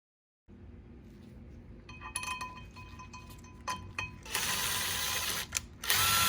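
A wrench tightens thread-locked bolts to 44 foot-pounds on a Power Wagon: sharp, close ratchet clicks in quick runs, some metallic clinks, then louder sustained ratcheting bursts near the end.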